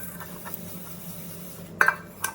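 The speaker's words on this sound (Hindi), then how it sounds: "और चलिए फटाफट से बर्तन धो लेते हैं।" Dishes are washed by hand in a home kitchen after breakfast. Light clinks and clatters of utensils and pots sound close by over a steady background hum, with a couple of sharper knocks near the end.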